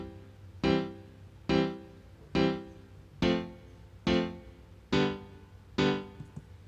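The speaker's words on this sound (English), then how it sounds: "I just played a grand piano." Grand piano chords played in FL Studio for a reggae riddim, seven evenly spaced struck chords at a slow steady pace, each ringing and decaying before the next, clear and alone.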